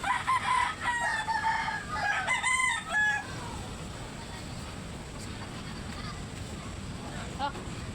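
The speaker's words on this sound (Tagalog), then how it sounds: "Ay guys, magpakain muna ako ng aming inahin guys." A hen clucks and squawks in short bursts near the start, then fades into steady outdoor background noise with faint distant calls.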